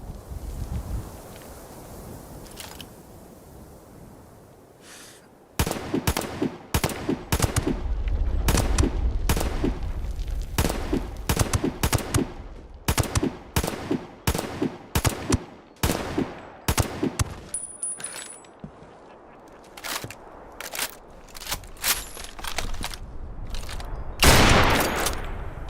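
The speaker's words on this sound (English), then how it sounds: "The raiders were shooting at other raiders." Raiders trading gunfire in Fallout 76, heard as long stretches of rapid, sharp shots in uneven bursts, some close and loud, others fainter, over a windy outdoor ambience with a quiet lead-in before the shooting starts.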